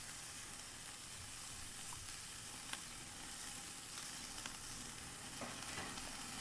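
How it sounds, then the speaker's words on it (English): Tri-tip steak searing directly over hot mesquite coals, a steady dense sizzle and crackle with occasional small pops, continuous and close without talk. "listen to the sound of this tri-tip searing"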